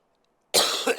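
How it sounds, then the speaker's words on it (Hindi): A single sharp cough from a man during a biology lesson indoors, with cold air from an AC blowing on his face. It bursts out suddenly after silence and is followed by a short second cough or throat-clearing. "अब खांसी शुरू हो गई कि अब एसी डायरेक्ट आ रहा है मुंह पे"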